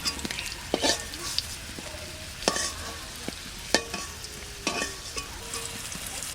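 Potatoes for a duck egg curry sizzle steadily in a pan while a spoon stirs them and scrapes and clinks against the metal at irregular intervals as they are lifted out. No one talks.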